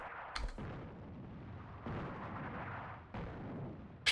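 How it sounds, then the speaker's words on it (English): Artillery strike in the World War II North Africa strategy game Attack at Dawn, falling on Australian troops: two or three heavy booming impacts spaced over a few seconds, each a broad blast that rolls into rumbling decay under continuous battle noise. "we'll artillery strike the Australians"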